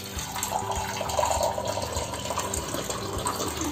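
Water poured into a mixer jar holding a dried-fish chutney mixture, a steady close splashing fill that lasts about four seconds with no voices.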